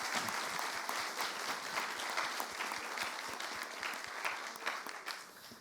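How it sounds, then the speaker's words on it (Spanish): A small group claps steadily for several seconds, crisp distinct hand claps with no cheering, fairly quiet and close. "quisiera que todos honremos este momento de aprendizaje con usted, con un aplauso."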